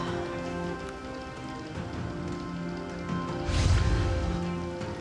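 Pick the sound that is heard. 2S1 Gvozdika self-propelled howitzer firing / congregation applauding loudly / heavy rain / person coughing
heavy rain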